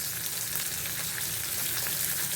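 Garlic frying in a pan for a mushroom gravy, a steady close hiss and crackle of hot oil sizzling evenly throughout with no pauses or talk.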